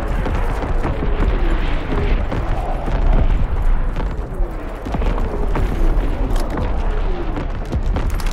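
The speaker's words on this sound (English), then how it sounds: "Incoming enemy artillery." Heavy, continuous rumbling artillery explosions in Call of Duty WWII, dense booms layered over one another in a loud barrage with scattered gunfire underneath.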